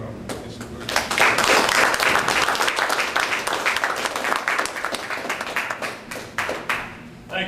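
An audience at St. Stephen's Parish, Grand Bahama, breaks into applause, a dense burst of clapping that swells quickly and then tapers off over several seconds.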